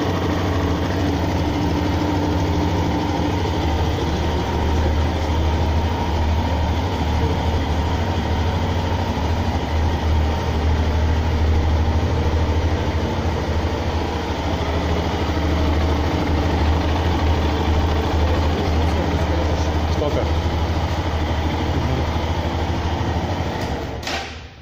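A 2006 Aprilia Pegaso Strada 650 motorcycle idles close by with an even, steady engine hum and low throb that holds unchanged throughout, with no talking.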